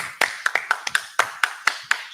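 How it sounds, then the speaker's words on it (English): Sharp hand claps at a Sabbath service, about nine in two seconds at a quick, steady beat, close and crisp with no voices. "With that, Shabia, Yeshak, all right, clap it up"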